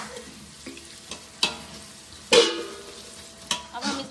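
Green chillies frying in a pan: a soft sizzle punctuated by several sharp utensil knocks and stirring scrapes, one louder crackling burst in the middle, close by and without speech.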